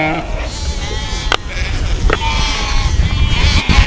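Several lambs bleat close by, overlapping high wavering cries over a low rumble of background noise, with a few sharp knocks.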